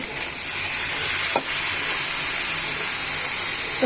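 Water hits a sizzling pan of vegetable curry with pointed gourd, potato and yardlong beans, giving a loud, continuous steam hiss with one brief click partway through.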